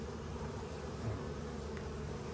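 Honeybees buzz around open commercial beehives during a hive inspection, a steady close dense hum with no talking.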